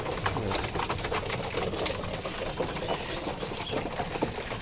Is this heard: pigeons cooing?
yes